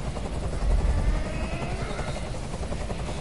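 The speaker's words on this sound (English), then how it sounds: "Tell that helicopter to get out of here." A helicopter hovers nearby in the video game Detroit, a dense, steady rotor rumble and wash filling the scene without pause.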